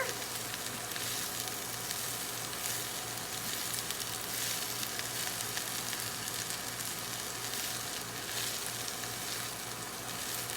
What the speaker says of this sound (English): So I'm just gonna gently stir this around.